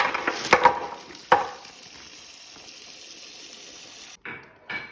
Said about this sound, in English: fill your sink with hot water and then just drop in those tomatoes